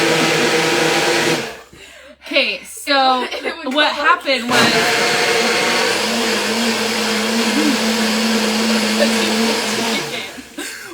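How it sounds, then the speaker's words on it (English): A kitchen blender switches on and runs with a loud, steady whirring drone for several seconds, after a brief quiet gap filled with someone talking and laughing; she keeps speaking faintly over the motor before it cuts off. "I had to turn the blender on."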